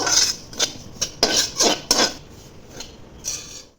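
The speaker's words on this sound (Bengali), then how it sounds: "তিলটা ভেজে নিচ্ছি আগে।" Sesame seeds being dry-roasted in a pan, heard as a series of close, bright scraping and clinking strokes of a utensil against metal at an uneven rhythm, fading toward the end, with no voices.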